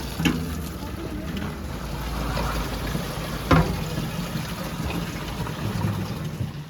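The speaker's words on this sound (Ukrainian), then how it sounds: "Промиваємо каністри і наберемо водичку." Water sloshes and splashes as plastic canisters are rinsed and filled in the Carpathians, with occasional knocks of plastic and a bright clunk midway, and a voice talking faintly.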